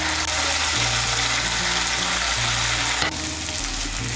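Pointed gourd cooks in ghee with sugar and ground garam masala, giving a close, steady frying sizzle with stirring scrapes and a brief break partway through, and no voices.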